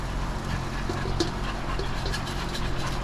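A dog pants close by, quick steady breaths repeating through the whole stretch over a low hum of a fan running on low outdoors.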